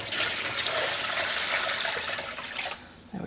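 Cold water from a large measuring cup pours steadily into a dye pan, a continuous splashing rush lasting about three seconds before tapering off.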